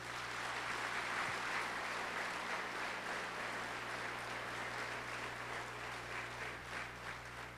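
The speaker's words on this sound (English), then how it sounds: "let's give them a big round of applause" An audience claps in sustained applause at a public listening session at Fort Leonard Wood, a dense crackle of many hands that fades slightly near the end.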